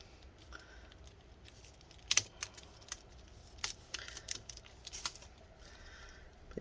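Keys on a 13-inch early-2015 MacBook Pro A1502 keyboard are handled during disassembly, giving scattered light plastic clicks and taps in an irregular rhythm, quiet and close, with no talk.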